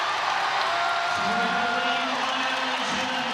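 A capacity crowd at a women's college basketball game between Virginia Tech and NC State roars steadily and loudly throughout, a dense sustained wall of cheering with a commentator's voice running over it.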